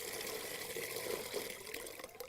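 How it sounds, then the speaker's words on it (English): Manured pond water from happy ducks and geese runs from a gravity-fed tap in a steady, close gurgling stream that fills a container without pause. "it easily delivers itself here to this tap. And we fill this up and it's just well manured water"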